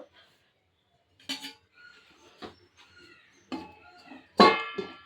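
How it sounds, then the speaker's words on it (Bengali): A metal lid goes onto a pot of potatoes set to boil. Several sharp clinks and clanks of metal on metal come in separate bursts, with quiet moments between them, heard nearby. "এবারে একটু ঢাকা চাপা দিয়ে দেবো আলুগুলো সিদ্ধ হওয়া পর্যন্ত।"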